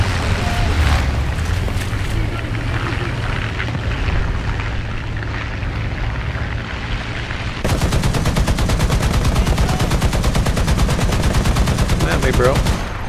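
Sustained burst of .50 cal machine gun fire from an M8 LAC armored car in War Thunder, a dense rapid stream of loud shots taking over in the second half, with heavy rumbling battle noise before it.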